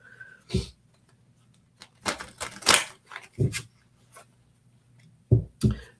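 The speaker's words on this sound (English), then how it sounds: "I always forget how easy this other deck is to shuffle." A large, oversized deck of cards is shuffled by hand, giving several bursts of riffling and flicking in an irregular rhythm, close and fairly crisp, with quiet gaps between bursts.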